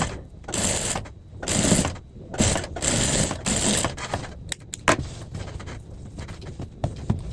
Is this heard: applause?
no